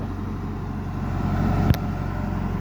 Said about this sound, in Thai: นี่ขนาดเร่งเครื่องเบาๆครับ